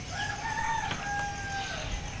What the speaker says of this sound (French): Désolé pour les coqs qui chantaient ici. C'est le lever du jour.